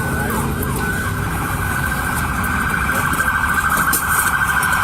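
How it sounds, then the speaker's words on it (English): A loud, continuous emergency siren wails steadily at close range throughout, filling the scene without pause and with no audible speech. "I hear ambulance"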